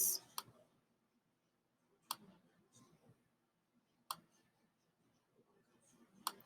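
Computer mouse clicking at a desk: four faint, crisp single clicks spaced about two seconds apart, with quiet room tone and soft handling noise between them.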